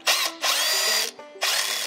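Power drill driving screws into a pocket hole joint in woodworking, whirring in three loud bursts separated by short pauses, close by.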